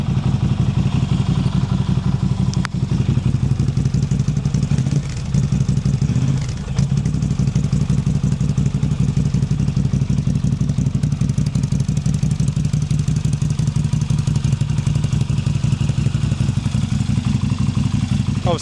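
Norton Commando 961 motorcycle engine idling while warming up, a steady low loping rumble close by with slight clatter throughout.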